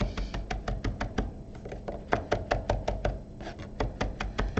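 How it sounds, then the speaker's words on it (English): A knife chops fresh parsley on a cutting board for kefta: a fast, steady run of crisp, close taps with short pauses between bursts and no talking. "and then just start chopping. Obviously moving my claw back as I chop"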